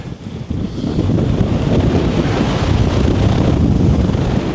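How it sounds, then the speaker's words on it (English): A strong gale roars across a Peak District hilltop, blasting the microphone with loud, continuous rumbling buffets that swell after a brief quieter start. "It is blowing a gale up here."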